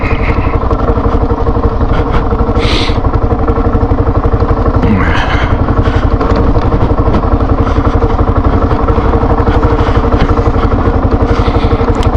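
A KLR motorcycle rides a rough mountain trail, its engine droning loud and steady throughout with occasional clatter and thumps, and a voice faintly present under the engine noise.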